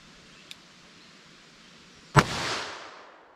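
A single loud, sharp gunshot from a .38 Special revolver firing Sierra hollow point hand loads at an outdoor range, followed by a long decaying echo, with a faint click earlier.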